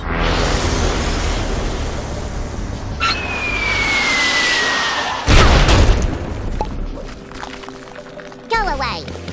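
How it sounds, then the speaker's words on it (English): Bomb blasts in the video game Worms W.M.D, loud booming bursts with a sharp impact near the middle, heard amid busy game sounds, music and voices. "Bombs."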